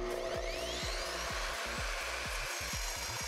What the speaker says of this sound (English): One thing I noticed is how the motor spins up.